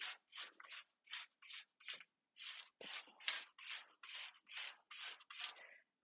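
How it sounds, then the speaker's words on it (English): Cleaner foam sprayed from a trigger bottle onto a dirty stove, about fourteen quick separate bursts in a steady rhythm, close and fairly loud with no talking. "I just spray it down,"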